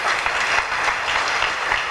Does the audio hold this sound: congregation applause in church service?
yes